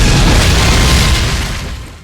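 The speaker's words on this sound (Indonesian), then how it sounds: "Bom itu pun seketika meledak di tangannya." Bomb exploding in a character's hand in an anime: a loud, dense roaring blast already at full force, rumbling broadly and gradually dying away over two seconds.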